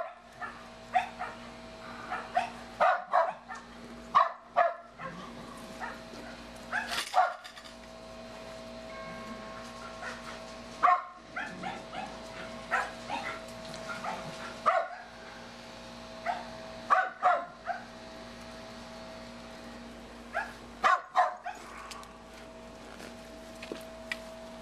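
Six-week-old puppies playing indoors, giving repeated high yips and short barks in scattered bursts over a steady background hum.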